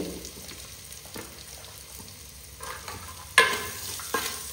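Onions fry in a clay pot with a faint, steady sizzle, broken by a few scraping stirs and clinks near the end.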